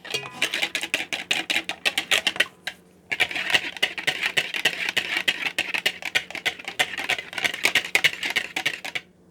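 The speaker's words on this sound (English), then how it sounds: "So we have our oil and our eggs together. We're going to mix those well." Oil and eggs for Appalachian corn bread batter are mixed in a bowl, making rapid, steady clicking strokes close up, with one brief pause before the quick rhythm resumes.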